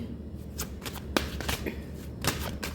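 Tarot cards are shuffled by hand in several quick riffling bursts with brief pauses between, close and fairly quiet, without talk.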